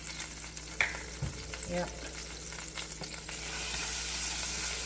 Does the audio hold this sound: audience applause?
no